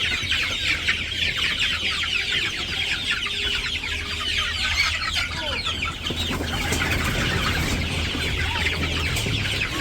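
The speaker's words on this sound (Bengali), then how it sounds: "রোদ উঠলে মুরগির ঘরের ভিতরে রোদ আসে" Chickens clucking inside a village henhouse, a dense, close chorus of clucks and squawks continuing throughout with no talking.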